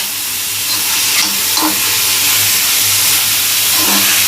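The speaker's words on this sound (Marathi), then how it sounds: "कांदा मी परतून घेते" Onion sautés on a flat iron griddle for a dry Malvani-style small shrimp dish, a loud, close, continuous sizzle with faint spatula scrapes and steamy hiss.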